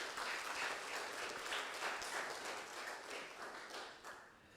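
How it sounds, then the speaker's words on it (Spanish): A church congregation claps together in thanks, a soft, fairly distant wash of applause that holds steady throughout and eases slightly near the end. "Un fuerte aplauso al Señor en acción de gracias"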